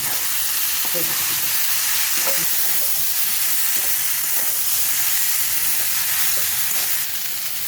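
Soybean chunks, potato and onion frying in oil in a kadai, a loud steady sizzle and hiss close up, with faint stirring knocks scattered throughout and no talking.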